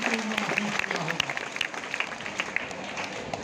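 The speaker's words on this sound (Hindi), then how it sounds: "एक बार इनके लिए जोरदार तालियां" A crowd at an Independence Day event claps loudly and continuously, a thick patter of many hands with voices mixed in beneath the applause.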